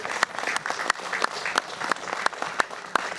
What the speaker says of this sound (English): So round of applause for Prajaya